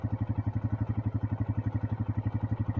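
A cab tractor engine runs steadily at close range during hay baling with an International 886, its deep, even rhythmic thrum pulsing with a regular chug and no talk over it.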